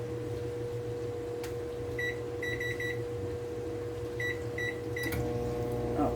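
A microwave oven hums steadily as it melts melt-and-pour soap, with several clusters of short electronic beeps breaking into the drone near the end.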